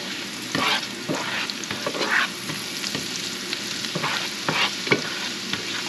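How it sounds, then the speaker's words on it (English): Lingcod fillets sauté in a hot pan with a steady, close sizzle, broken by repeated scrapes and knocks as the pieces are stirred and turned. "Our sauteing."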